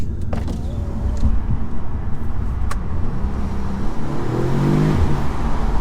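Audi RS3 or S3 engine and exhaust heard from the cabin on a B road, a steady low rumble under road noise that swells slightly with a rising tone toward the end.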